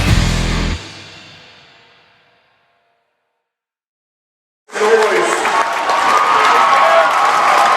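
A near-capacity crowd at a boys' high school basketball game applauds and cheers loudly and continuously after a brief silence.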